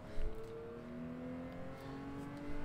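A race car engine in Gran Turismo 7 holds steady revs at the start line, a low, even harmonic drone at moderate distance with no voices.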